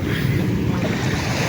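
Rough sea churning close by in bad weather, a constant heavy wash of big waves mixed with gusting wind buffeting the microphone.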